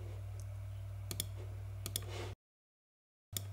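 A computer mouse clicks on an update button: a few crisp, close clicks over a faint steady hum, then a moment of silence before one last click.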